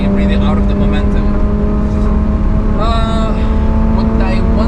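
An in-car view of a Mercedes E36 AMG W124 Cabrio lapping the Nürburgring, its engine holding a steady low-rev drone throughout while people talk over it.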